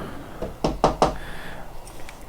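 Knocking on wood: a few quick, sharp raps, the middle three loudest and evenly spaced, close by with no talking.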